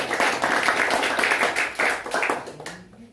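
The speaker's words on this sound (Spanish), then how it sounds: "Dele el aplauso a Yahweh, dice." A church congregation claps during a Spanish-language worship service, a dense burst of overlapping hand claps that gradually thins out and fades near the end.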